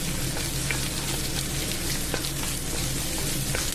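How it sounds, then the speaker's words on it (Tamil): Red chillies, garlic and ginger sauté in hot oil in a pan, giving a loud, dense, continuous sizzle and crackle with faint stirring, no talking. "ரெண்டும் ஒன்றா நல்லா வதக்கட்டும்."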